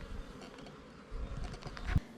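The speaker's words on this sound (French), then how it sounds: "il y a déjà des abeilles qui viennent voir autour de la cage" Bees buzz faintly around a queen cage set into a new swarm, a low, uneven hum that swells and fades with a few soft knocks, ending in a brief louder bump.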